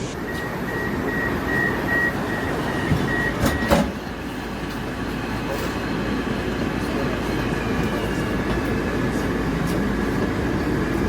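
Inside a moving Moscow metro car, a steady loud rumble of wheels and carriage noise fills the space, with a brief clunk partway through and a faint tonal whine running through it.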